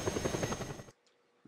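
Helicopter in the video game Just Cause 2, a loud choppy rotor and engine rumble that cuts off abruptly, leaves near silence, then bursts back in at the end.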